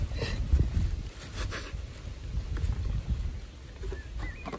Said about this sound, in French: on passe par du vent, comme vous pouvez l'entendre